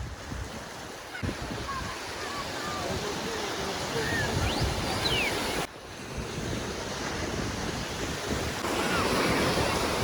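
Sea surf washes continuously onto a crowded sandy beach in Durres, Albania, a broad steady rush mixed with wind noise, with faint distant voices and a few far-off bird cries.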